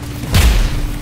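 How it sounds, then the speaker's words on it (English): A single deep boom from a fireworks rocket weapon firing in the vehicle combat game Gear Up, a heavy low thump that swells quickly and rumbles off over about half a second. "fireworks for you, buddy"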